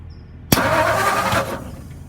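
A 1959 Ford F100 pickup's Y-block V8, a barn find, cranks and catches on its first start in decades, with a sharp onset, a loud rough run for about a second, then fading back down.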